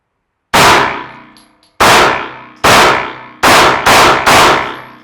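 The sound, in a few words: gunshots fired on a shooting range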